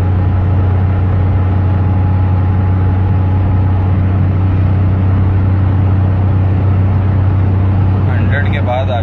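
United Bravo car accelerating past 100 in fourth gear, a steady loud engine drone with constant low hum throughout, with speech over it.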